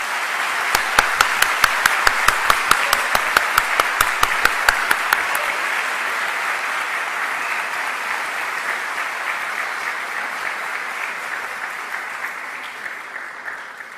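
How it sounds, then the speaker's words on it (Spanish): A lecture audience in Bogotá, Colombia applauds warmly. A few crisp, rhythmic claps stand out at first, then merge into a full, even wash of clapping that slowly fades. "Por favor, démosle un fuerte aplauso a Jack Fresco y Roxanne Meadows."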